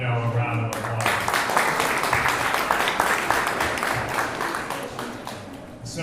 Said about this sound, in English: So please join me in giving Nino a round of applause.